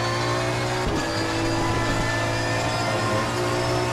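A race car in Assetto Corsa Competizione crosses the start-finish line at Silverstone on a fast lap, its engine a steady loud drone with a sharp burst as it passes close by, no talk over it.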